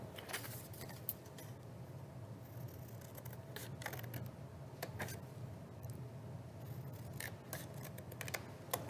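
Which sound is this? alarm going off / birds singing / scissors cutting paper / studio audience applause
scissors cutting paper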